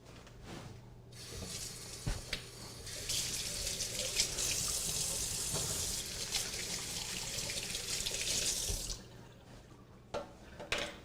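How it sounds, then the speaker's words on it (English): Hands are washed under a running tap, with water hissing loud and close into a sink for several seconds and a few clunks and drips before and after the flow. "I'm going to move this off to the side and wash my hands really quick."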